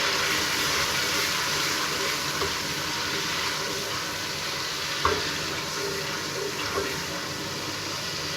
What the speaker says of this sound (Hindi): थोड़ा सा भून लें इसे।